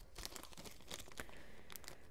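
Quiet, close crinkling and rustling of a plastic bag being handled as a garment goes inside, with a few sharper crunches scattered through.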